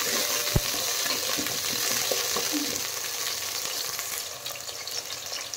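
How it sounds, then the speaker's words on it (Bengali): Chunks of potato frying in hot mustard oil in a pot, a steady close sizzle and crackle with a few stirring knocks, and no talking. "দিয়ে আলু একটু ভেজে দেব"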